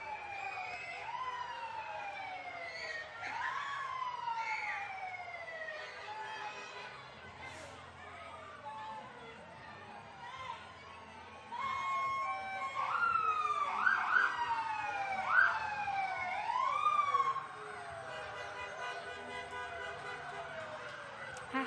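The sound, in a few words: fire and EMS vehicle sirens in Christmas parade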